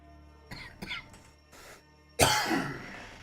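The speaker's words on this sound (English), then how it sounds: "I'm coughing." A few short, rough coughs, then a louder, harsher coughing burst at close range.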